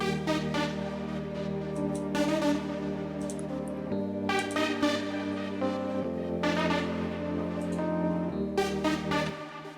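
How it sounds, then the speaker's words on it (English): A bright synth arpeggio rides an amapiano groove, with rapid repeating notes over sustained chords and a deep bassline as the pattern changes every couple of seconds. "I had this arpeggio that I played on top of this."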